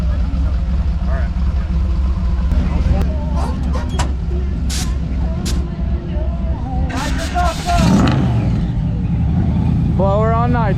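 Loud, continuous engine roar from a blower-equipped car on nitrous prepping for a burnout contest, tires spinning with a rising squeal near the end and people talking over the din.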